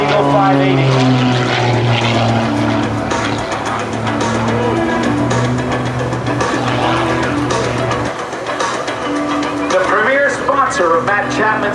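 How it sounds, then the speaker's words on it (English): The propeller engine of an Embry-Riddle Eagle 580 aerobatic plane at an air show roars loudly and steadily, its pitch shifting as the aircraft maneuvers, with a voice talking over it. "An airplane just isn't supposed to fly like that, but Matt Chapman does it"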